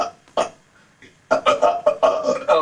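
Loud, repeated burps at close range in front of a mirror, one short belch early on, then a rapid run of five or six throaty eructations bunched together near the end.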